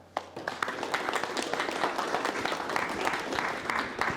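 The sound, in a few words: audience applause at a city council meeting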